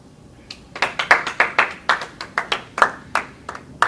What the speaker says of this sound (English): I've never gotten applause for that before.